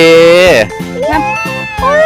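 A lost kitten found on a Hua Hin beach meows loudly and close, a series of three or four high, wavering cries.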